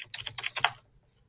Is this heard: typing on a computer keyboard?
yes